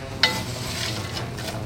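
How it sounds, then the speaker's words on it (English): Gentle, soft sizzle of lentils frying in a pan, a steady low crackle with a brief clink at the start. "It's not a terribly exciting sizzle"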